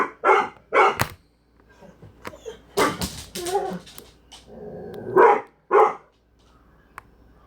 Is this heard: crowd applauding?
no